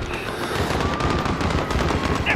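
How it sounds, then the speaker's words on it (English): Dense automatic gunfire in Call of Duty: Modern Warfare, a New York battle, with rapid bursts rattling continuously and loud across the whole moment amid wider combat noise, no voices. "They're firing on civilians!"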